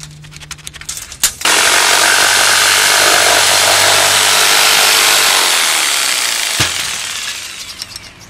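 A power jigsaw cuts steadily through wood siding from the back face, loud and close, with a harsh buzzing drone that tapers off before stopping.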